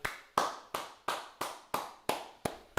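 A single person clapping hands in applause, eight sharp slaps in a steady rhythm, close and fairly loud with nothing else heard.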